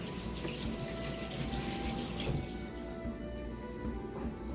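A kitchen tap runs steadily while hands are washed beneath it, making a close, continuous rush of water with small splashing changes and no voices.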